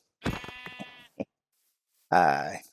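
Sheep in a Minecraft-style video game bleat in short, close, nasal calls: two quick bleats, a brief blip, then a longer bleat after a pause.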